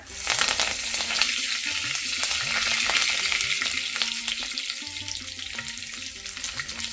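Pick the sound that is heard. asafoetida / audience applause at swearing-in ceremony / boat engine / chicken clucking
asafoetida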